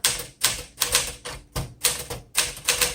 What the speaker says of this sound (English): Let's go ahead and start typing.